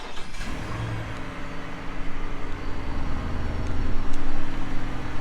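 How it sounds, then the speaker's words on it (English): A 2023 Ford F-150 5.0 Coyote V8 truck with its stock exhaust idles steadily with a low, rumbling exhaust drone, getting slightly louder toward the end, with no talking. "This is what the stock exhaust sounds like."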